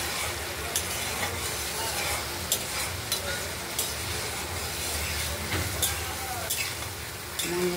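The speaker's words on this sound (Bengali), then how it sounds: "এবার মশলাটা কষানো চলছে, এখনো হয়ে আসেনি কষানো" Spice paste for a fish curry sautéing in a pan, a dense continuous sizzle with repeated spatula scrapes and clicks at an uneven rhythm, close and steady, no speech.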